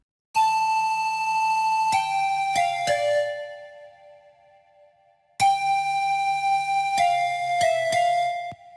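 A bright, bell-like synth melody with a steady low bass pulse, playing a short phrase, pausing briefly, then repeating; no voices. A bongo flava instrumental beat made in FL Studio.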